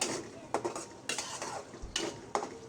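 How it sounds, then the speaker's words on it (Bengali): Chopped onion and chillies fry in a pan, with a soft sizzle under repeated scrapes and clinks of a spoon stirring against the metal, close and quiet, with no talking. "মরিচটাও পেঁয়াজের সাথে একটু ভেজে নেব"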